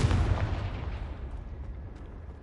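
Confringo fire spell explosion in Hogwarts Legacy, a single loud, deep boom that rumbles and fades away over a couple of seconds.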